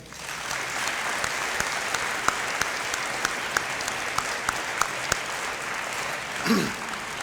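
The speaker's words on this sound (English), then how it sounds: "one more huge applause for our Lakeview Concert Band and our Lakeview Concert Choir." Sustained audience applause for a concert band and choir at a school Veterans Day program, steady and dense throughout with a few sharper claps standing out and a brief voice near the end.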